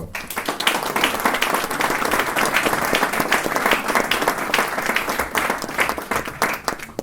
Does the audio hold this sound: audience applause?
yes